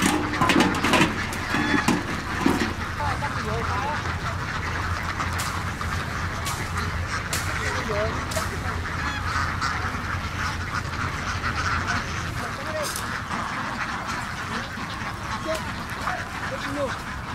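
Large flock of ducks on a duck farm quacking constantly, a dense, overlapping chorus of calls that fills the whole stretch at a steady level.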